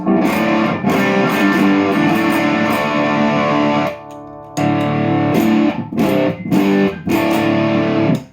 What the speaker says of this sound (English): if you crank the distortion, you get much more of a fuzz